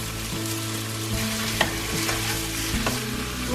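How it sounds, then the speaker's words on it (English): Potatoes with salt frying in a pan for an Indian cabbage and potato curry, a steady close sizzle with repeated stirring scrapes at an even pace. "I'm going to cook these potatoes for about 5 minutes before I put the cabbage in."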